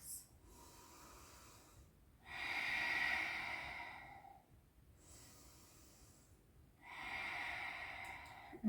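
Slow, deep breathing during a gentle yoga practice, close and quiet: two long airy breaths rise and fall with pauses between them, and a faint snort-like catch sits at the very start.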